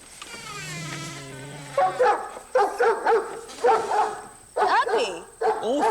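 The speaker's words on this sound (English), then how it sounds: "with my puppy" A puppy yips and barks in short repeated bursts, close and lively, after a few seconds of a drawn-out whimpering tone, in a cartoon stone building beside a house.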